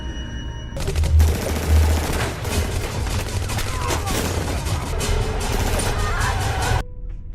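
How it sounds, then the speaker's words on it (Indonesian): Film gunfight with rapid bursts of gunfire and scattered shots over a rumbling low soundtrack, loud and continuous for several seconds before cutting off abruptly. "Setelah itu terjadilah baku tembak, tapi si Ramon berhasil kabur."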